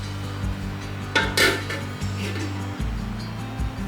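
A lid clanks down onto a pan of half-cooked rice beans, corn kernels and water, set to simmer in a vegan home kitchen: a couple of close metallic knocks over steady background music.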